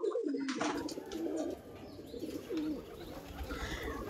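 Pigeons brought from Tamil Nadu coo in soft repeated phrases close by, with rustling and other faint background noise and no talking.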